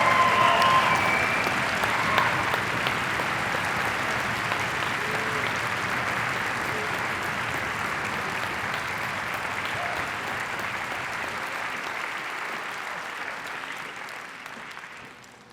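A concert audience gives sustained applause as a university varsity glee club leaves the stage at a spring showcase, with dense, steady clapping that slowly fades near the end.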